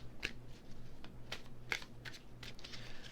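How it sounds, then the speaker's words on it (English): Tarot cards being given a quick shuffle by hand, several soft, dry riffling and flicking bursts, close and quiet, with no talking. "Give them a little shuffle."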